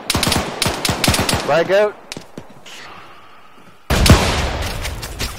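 Bursts of automatic gunfire in the military shooter game ArmA 3, sharp rapid cracks under excited shouting voices, then a lull and a loud renewed volley near the end.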